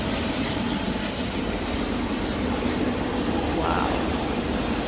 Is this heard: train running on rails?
yes